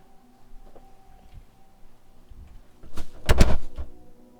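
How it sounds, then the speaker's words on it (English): An indoor door is closed: faint shuffling and handling give way to a loud, close thump and brief rattle near the end, with no talking. "I'm gonna close this door really quick"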